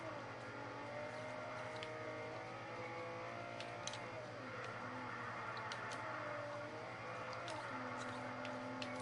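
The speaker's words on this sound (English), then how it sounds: "Engine revving beautifully." An Aston Martin DBS engine revs and roars steadily in Forza 4, rising and falling in pitch with brief shifts, a synthetic game-like engine drone with occasional clicks.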